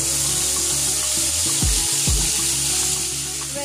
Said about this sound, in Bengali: এবার গোটা মশলাটা ফোড়ন দেওয়া হয়ে গেলে আদা বাটাটা দিয়ে দিলাম